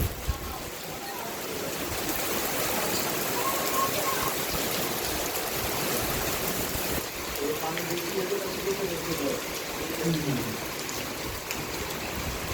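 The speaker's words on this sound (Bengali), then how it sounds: "বৃষ্টির যে ফোঁটা সুইমিং পুলের পানিতে যখন পড়ছে" Rain patters steadily onto the water of a rooftop swimming pool at a hotel, a dense continuous hiss of drops with faint voices murmuring underneath.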